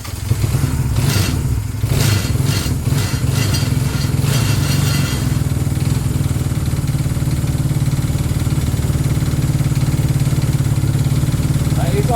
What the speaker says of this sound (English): That is idling.